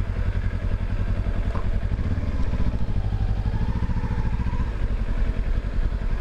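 Kawasaki Ninja 400 KRT 2023 motorcycle weaving through traffic, its engine a steady close throbbing drone with rapid firing pulses and slight rises in revs.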